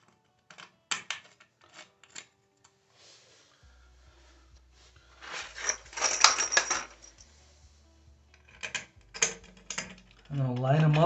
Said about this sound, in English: I'm gonna put the bolts on each of the holes.